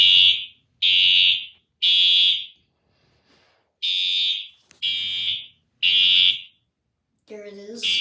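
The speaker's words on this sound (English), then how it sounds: "this is another test of fire alarm system." A fire alarm system sounding during a test, blaring loud electronic horn blasts in a steady repeating pattern of about one-second bursts with short gaps, followed by a brief different tone at the end.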